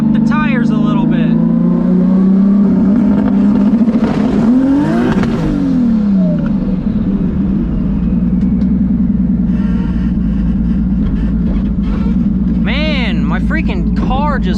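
A Nissan S14 with a 2JZ engine swap revs up loudly close by, rising and falling through sweeping pitch changes, then settles into a steady drone before another burst of rising revs near the end.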